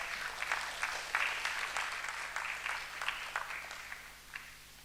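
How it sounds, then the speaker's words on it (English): Audience applause for Dr. Nayak at the 10th Foundation Day Symposium, a soft, steady patter of clapping from a seated crowd, heard at a distance and fading gradually toward the end, over a faint steady hum. "let us extend a hearty round of applause to Dr. Nayak"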